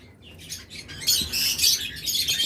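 Pet birds for sale chirp and tweet in quick, overlapping bursts, close and fairly loud, with no talk.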